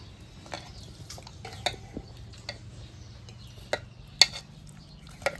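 Chopped coriander being stirred into a cooked mixture, a spoon giving sparse, irregular clicks and taps against the pot over a quiet low background hum.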